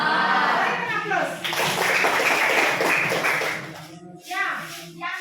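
Classroom applause from pupils in an Indonesian lesson on the digestive organs: a dense burst of many hands clapping fills most of the stretch, with children's voices mixed in, then fades into a few scattered claps near the end.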